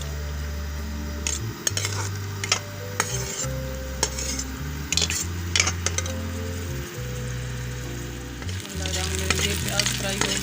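Onions fry and sizzle in a pan for a ridge gourd (tori) curry, with a steady loud crackle, low rumble, and repeated scraping and clinking of a spoon stirring throughout.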